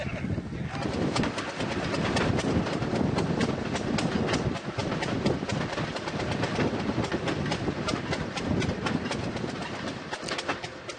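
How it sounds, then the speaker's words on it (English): A Florida Central Railroad train rolls past on the rails between Plymouth and Winter Garden, Florida, a loud continuous rumble with rhythmic clacking of wheels over track joints throughout. "Train."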